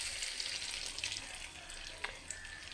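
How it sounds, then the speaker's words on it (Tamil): Cashews frying in hot ghee, a steady close sizzle with soft crackles and a couple of small pops or stirring clicks, unbroken throughout. "முந்திரிக்கு கொஞ்சம் நெய்யை விட்டு காஞ்சோன்னா முந்திரியை போடுவோம்."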